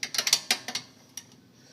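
A wrench ratchets in quick clicking bursts while loosening the lower brake caliper bolt on a Mercedes-Benz GL 450, a cluster of sharp close clicks followed by a pause and a few scattered ticks.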